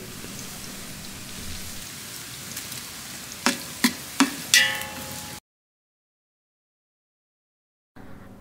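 Onions frying in a pan for biryani give a soft, steady sizzle, punctuated by four sharp clinks of a utensil against the pan, then the sound cuts to silence.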